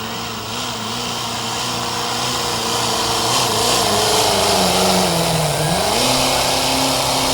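A pulling truck engine revs hard at a pro puller league truck pull, a loud, steady mechanical roar that climbs and shifts pitch as it pulls, close and continuous with no talk.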